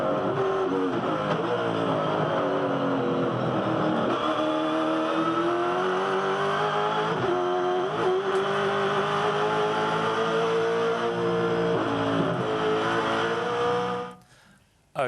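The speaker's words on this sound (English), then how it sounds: "Crompton always says that V8 supercars are something like a song. They've got their own rhythm" V8 Supercar race cars on a circuit, engines roaring loud and close as they rev up and down through the gears, the sustained note rising and falling until it cuts off sharply near the end.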